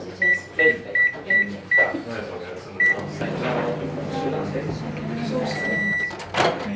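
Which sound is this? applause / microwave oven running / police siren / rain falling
microwave oven running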